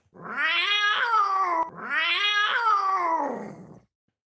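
A voice imitates a cat with two long, drawn-out yowling meows, close and clear, separated by a brief pause, then silence.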